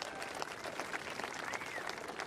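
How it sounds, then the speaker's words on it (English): An audience at a surf event post-show gathering at Margaret River claps in a brief, fairly faint round of applause, scattered hand claps blending into a steady patter. "Big round of applause once again for Starkey"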